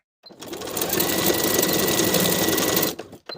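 A sewing machine zigzag stitches elastic on fleece pajamas in one close, steady burst of rapid needle clatter lasting under three seconds, with no talk.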